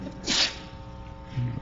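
A single sneeze in a meeting room, sharp and fairly close, followed by a brief murmur of voices.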